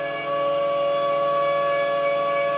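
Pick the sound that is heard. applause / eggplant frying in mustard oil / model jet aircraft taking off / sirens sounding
sirens sounding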